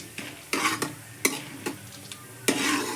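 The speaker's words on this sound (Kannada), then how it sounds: "ಫಸ್ಟು ಎಣ್ಣೆ ಹಾಕಿದ ನಂತರ ಅದಕ್ಕಾದ ನಂತರ ಸಾಸಿವೆ ಹಾಕಿದ್ದೀನಿ. ಸಾಸಿವೆ ನಂತರ ಸ್ವಲ್ಪ ಕಡಲೆಬೇಳೆ ಹಾಕಿದ್ದೀನಿ." Mustard seeds and chana dal frying in hot oil for puffed rice usli, a steady sizzle broken by bursts of spluttering and stirring scrapes, close and fairly quiet with no talk.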